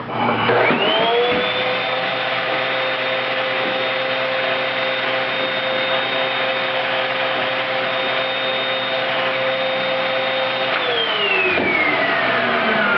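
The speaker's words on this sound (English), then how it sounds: "Vacuum that out again." A vacuum cleaner starts up and holds a steady, loud whine for about ten seconds, then powers down with a falling tone.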